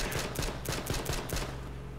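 Gunshots ring out in the battle royale game H1Z1, a rapid series of around eight sharp cracks in quick rhythm, moderately loud, followed by a short, quieter tail.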